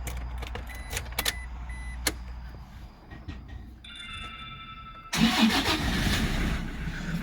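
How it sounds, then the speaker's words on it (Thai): A car engine cranks and catches, then settles into a steady idle rumble, close by, following some quiet clicks and a brief electric whine, as the car audio power and preamp switch on. "ตอนนี้สตาร์ทเครื่องนะครับเปิด power นะครับ"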